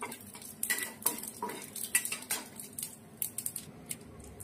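Whole cumin and dried chillies tempering in mustard oil in a wok make a soft sizzle under repeated metallic scrapes and taps of a spatula stirring the pan.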